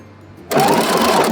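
A sewing machine starts abruptly and runs fast and loud, stitching fabric cut from a thrifted blanket for a cocoon sweater.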